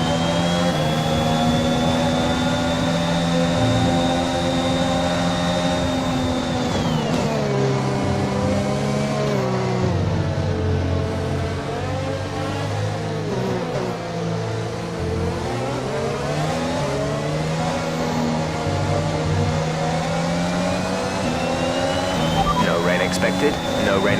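A Formula 1 car engine in F1 2021 howls at high revs, a loud, continuous whine that rises and falls as the car shifts and accelerates, with faint talk underneath.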